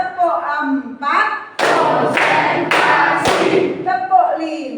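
A classroom of children claps a rhythmic pattern together in an Islamic studies lesson: several sharp, loud bursts of group clapping in quick succession, framed by a teacher's spoken prompts before and after.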